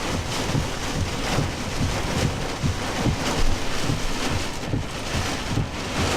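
Strong straight-line wind storm buffeting the microphone, a loud continuous roar and rumble with gusty surges, near an airport roadside and heard alone without speech.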